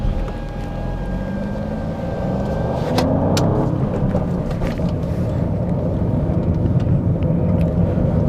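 A 510-horsepower Alfa Romeo Giulia Quadrifoglio with a 2.9-litre engine lapping a race track, its engine a loud, steady roar close to the listener that holds throughout with no talk over it.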